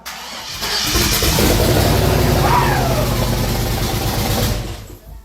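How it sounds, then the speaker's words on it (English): A 4x4 JDM mini truck's small engine cranks and fires up, then runs steadily with a loud, close mid-pitched idle and a brief rev before settling and cutting off near the end. "Dude, it actually fired right up."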